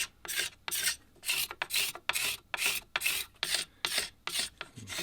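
Hand scraper rasping over an old yew longbow to strip varnish, about a dozen short dry strokes in a steady back-and-forth rhythm, close and fairly quiet, with no voices.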